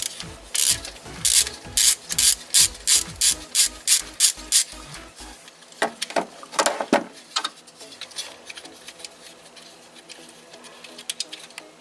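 A ratchet wrench loosening a 12mm nut on a Kia Forte Soul 1.8/2.0 engine: a dozen loud, evenly spaced ratcheting strokes, then faster clicks and a few metallic clunks before quieting.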